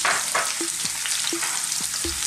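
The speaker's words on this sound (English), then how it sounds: "We're gonna start by dropping in some onions, sliced red onions" Sliced red onions frying hard in hot oil in a wok, a loud continuous sizzle with several spatula scrapes and taps spaced through it, close up and without speech.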